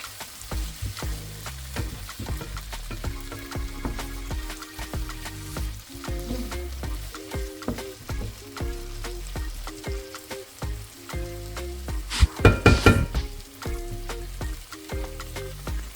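Garlic paste sizzles steadily in a hot pan, with a constant crackle under intermittent scraping and stirring strokes and a brief louder clatter near the end.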